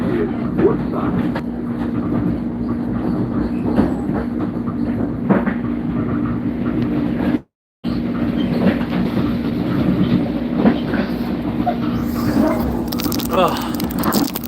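Train rolling along rails with a steady low rumble and a sustained hum, faint rhythmic clicks over track joints, and a brief dropout partway through.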